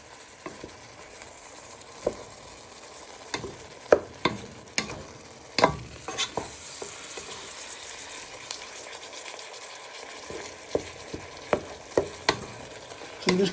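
Mushrooms and beef stir-fry in a hot pan, a steady close sizzle broken by irregular sharp clacks and scrapes of a utensil stirring around the pan.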